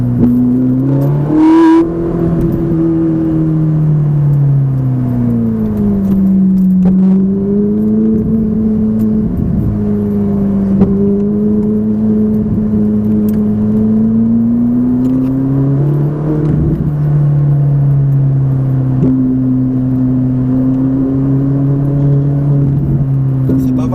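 A Ferrari 458 engine revs and accelerates steadily on a race circuit, its pitch rising and falling through gear changes, loud and close for the whole stretch.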